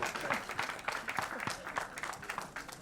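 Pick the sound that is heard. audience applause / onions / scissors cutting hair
audience applause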